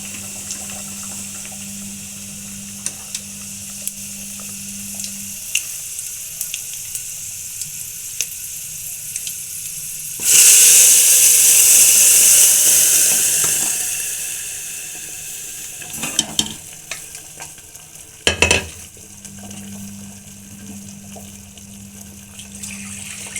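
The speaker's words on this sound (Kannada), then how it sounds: "ಇವಾಗ ಸಾಂಬಾರು ಹಾಕ್ಕೊತೀನಿ ಅದಕ್ಕೆ." Sambar is poured into a pan of cooked greens and stirred, a loud burst of hissing sizzle rising suddenly, then settling into quieter bubbling with a few clinks of a spoon.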